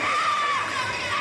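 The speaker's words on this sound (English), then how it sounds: "The crowd tries to scream." An arena crowd at an INTENNSE tennis match between Fortune and Inferno screams and shouts in a brief, loud, sustained burst of high-pitched voices.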